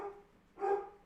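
Dogs bark indoors in two short bursts, moderately loud and slightly distant, with a brief pause between them.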